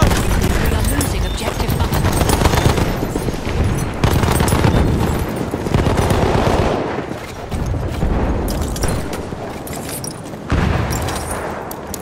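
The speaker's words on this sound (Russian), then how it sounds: "Граната пошла!" A grenade blast and sustained gunfire in a Battlefield 1 battle: loud, dense bursts of shots and heavy booms, continuous throughout with brief lulls, up close.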